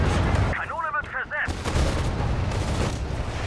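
Artillery and gunfire in the Sudden Strike 4 Kursk battle, heavy booms and rattling shots rolling together with a brief high whining tone in the middle and continuous loud explosive rumble throughout.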